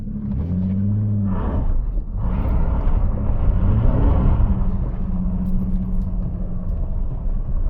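A 1995 Ford Falcon GLi EF sedan with a manual gearbox and loud aftermarket exhaust drives over gravel, its deep rumbling exhaust surging and easing under a constant crunch and rattle of stones from the tyres.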